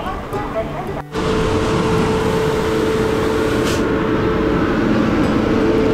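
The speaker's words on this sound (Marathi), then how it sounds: "इकडे नेत्रावती एक्सप्रेस आली" Netravati Express pulling into Ratnagiri station, a steady loud rumble and hum of the train rolling alongside the platform after a brief dip at the start, with a faint whistle-like tone in the middle.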